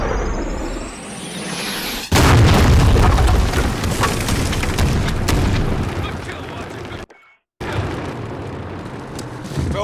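Artillery strike explosions in the Modern Warfare video game: a sharp, loud boom hits at about two seconds, then heavy rumbling blasts and debris roll on, cut by a brief dropout near seven seconds before the barrage resumes, with game voices underneath.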